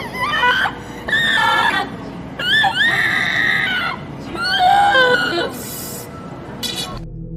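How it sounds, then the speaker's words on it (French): A dental training robot screaming, loud harsh wavering shrieks in several long bursts with brief gaps, close and dominant throughout. "Le robot s'est mis à crier et à se débattre sans raison, et les sons qu'il émet sont absolument horribles."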